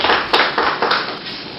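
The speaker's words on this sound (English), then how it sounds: "Please let's welcome him with a round of applause" A round of applause from the audience at a national conference welcoming the day's chairman: steady, fairly loud clapping from many hands with a few sharper claps standing out, and no talk over it.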